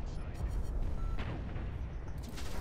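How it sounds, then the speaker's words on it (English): Sniper gunfire in the Hawken mech combat game, a dense rumbling battle mix of booming shots and low blasts running throughout, with some short streaking tones, all loud and constant. "Snipers are picking me off."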